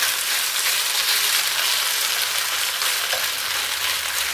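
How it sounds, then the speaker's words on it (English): Steady, dense sizzling of beef frying in a hot pan for a stir fry, a continuous crackling hiss close up with no talking. "Hear the sizzle."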